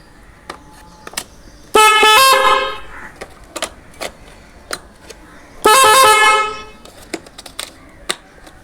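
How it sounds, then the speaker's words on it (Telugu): Two loud, sustained blasts from a motorbike horn fitted with a cutout for varied tones, each lasting about a second, separated by a quieter stretch of faint clicks and background noise. "ఒకసారి నా బండి హార్న్ ఎట్లుందో చూసి కామెంట్ అయితే పెట్టేసేయండి మీరు."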